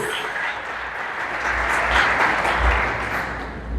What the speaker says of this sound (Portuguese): Você fica mais bonito aí, dando glória a Deus e aplaudindo a Jesus.